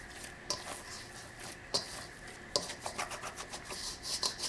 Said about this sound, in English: I'm just scraping down the sides as I'm going, so this way all of that can be incorporated